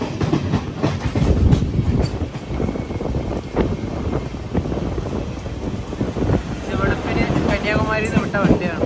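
The Kanniyakumari–Mangaluru Central Parasuram Express rolls toward Vadakara station, with a steady rumble and rhythmic rail clatter, wind buffeting the microphone, and a voice speaking over the train noise.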